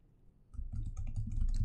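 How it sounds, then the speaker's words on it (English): Typing a command on a computer keyboard at a command prompt, a quick run of soft, close key clicks after a brief near-silent pause. "Then again, at the command prompt, I will type"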